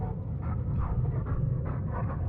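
A dog-like monster in the video game I Was a Teenage Exocolonist pants and huffs close up, a rough breathy rhythm with faint whimpering tones.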